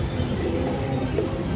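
A train at KL Central station in Kuala Lumpur gives a steady rumbling roar with a faint squeal, continuous and close, with no talk.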